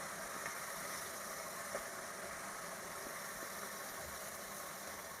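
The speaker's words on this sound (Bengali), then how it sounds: "ব্লেন্ডারে দিয়ে দিচ্ছি।" A kitchen blender grinds raw turmeric in a steady, unbroken motor whir with a rough, buzzing texture that holds at an even level throughout, with no voices.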